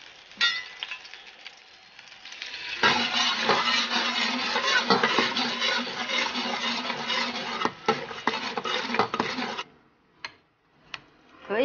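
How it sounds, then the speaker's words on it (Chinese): Eggs fry in lard or corn oil in a home kitchen pan, a steady loud sizzle and scraping that runs for several seconds, then cuts out, leaving a few soft clicks. "现在我要去煎鸡蛋"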